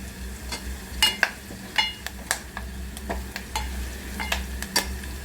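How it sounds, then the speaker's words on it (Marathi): Garlic frying in oil in a pan for a traditional Marathi-style spicy katachi amti, with soft crackling sizzle under sharp intermittent clinks and scrapes of a spoon stirring against the metal pan, close and moderately loud. "लसूण आपल्या भाजत येते"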